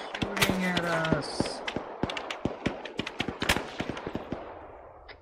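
Gunfire in the military game ARMA 3, a rapid string of sharp shots and bursts, some near and loud and others fainter and more distant, with scattered single cracks trailing off.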